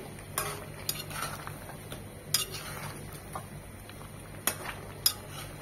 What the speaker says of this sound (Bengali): 3টা টমেটো ছোট ছোট করে কিউব করে নিয়েছি, সেগুলো দিয়ে দিচ্ছি।